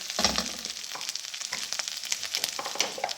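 Garlic fries over a very low flame as white cumin seeds are added, giving a continuous crackling sizzle with a brief low thump near the start and scattered sharp pops throughout.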